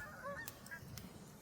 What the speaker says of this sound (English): listen to those geese over there